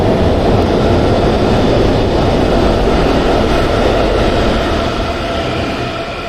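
Riding inside a Brussels metro train: a loud, steady rumble with a broad roar from the wheels and motors, continuous throughout and easing slightly at the end, with no voices.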